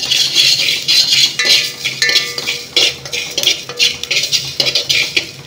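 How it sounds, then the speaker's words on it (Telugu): One spoon of fenugreek seeds dry-roasting in a small pan, stirred with a metal spoon in quick repeated scraping and clinking strokes, close and fairly loud. "ఒక కంచుడు కానీ చిన్న గంజు కానీ పెట్టుకొని ఇప్పుడు మనమైతే మెంతులను వేయించేసుకుందాము."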